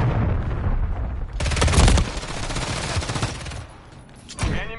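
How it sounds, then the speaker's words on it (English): Call of Duty MW3 ranked match chaos: dense rapid gunfire bursts and booming impacts from an incoming cruise missile strike, loud and continuous, with a sharp burst near the end. "Hostile cruise missile incoming."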